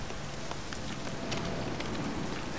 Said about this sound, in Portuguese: Parece que vai chover ou já tá chovendo?